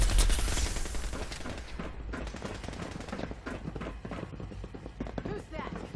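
Gunfire in a Fallout 4 robot battle, rapid bursts of shots crackling with a loud opening blast, then continuing volleys over game noise.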